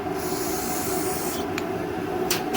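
A steady, forceful hiss of cleaner spraying through a small carburetor passage, close by, cutting off briefly with short gaps before resuming.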